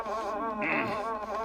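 Bugs buzzing close by outdoors, a continuous whining insect drone that rises and falls slightly without a break.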